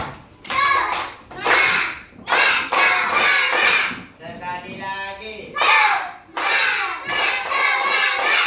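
Standing students in a classroom perform a rhythmic spirit clap in several loud, patterned bursts with brief pauses, while a teacher's voice speaks between them.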